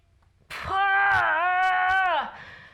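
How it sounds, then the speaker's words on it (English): A drawn-out, sustained vocal scream or wail during an ab workout, rising sharply, holding loud and steady for nearly two seconds, then tapering off, with no other talk around it. "Sometimes you just need to scream it out."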